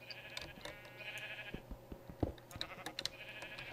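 Sheep on a Minecraft sheep farm bleat over and over, overlapping calls from several animals with steady game background noise and a few clicks, no talking.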